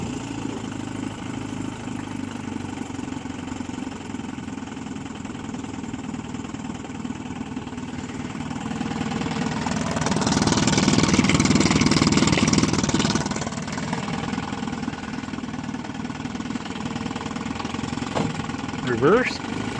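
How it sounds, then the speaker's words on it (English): Small 1958 Johnson CD-15 5.5hp outboard motor idling low and steady at close range, a soft even putter that swells slightly for a few seconds before settling back, with no talk over it. "Idle it down here, got a fantastic idle"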